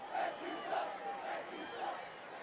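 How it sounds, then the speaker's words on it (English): A home football crowd at a West vs. Alta game groans and murmurs in disapproval over a play, a steady, fairly distant wash of many voices with a few swells of louder displeasure. "Home crowd not happy about that last play."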